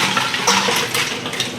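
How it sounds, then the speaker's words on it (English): Ice water and shrimp heads poured into a colander in a kitchen sink, a continuous close splashing rush with faint clinks of ice, loud and alone. "Now what I'm going to do is I'm going to pour them into a colander in the sink."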